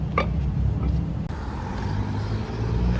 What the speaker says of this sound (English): Now that right there is a car. Proper American muscle.